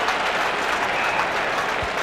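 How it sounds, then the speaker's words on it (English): Australian rules football crowd at a 1990 Glenelg versus Port match applauding a spectacular mark, a dense, steady wash of clapping and cheering that holds at full loudness throughout. "The players didn't hear it due to the crowd showing their appreciation."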